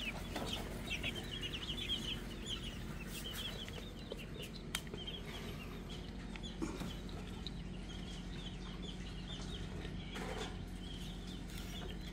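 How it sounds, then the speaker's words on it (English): Week-old chicks in a homemade incubator give soft, continuous cheeping over a steady low hum, with no talk. "these chicks are about a week old"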